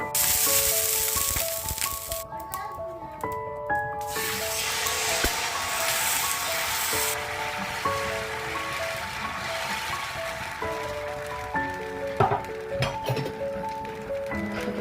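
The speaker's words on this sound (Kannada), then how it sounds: "ಚೆನ್ನಾಗಿ ಬೇಯಿಸ್ಕೋಬೇಕು ಈ ದೋಸೆನ ನೀವು." Ragi dosa cooking on a hot pan gives a steady close sizzle and hiss running throughout, with occasional clinks of utensils and music playing in the background.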